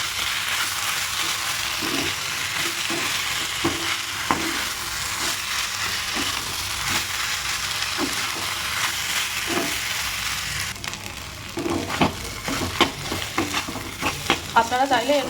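Bhetki fish fries with spices in a pan, giving a steady close hiss and sizzle. Occasional stirring scrapes run through it and become busier clatters near the end, with no talking.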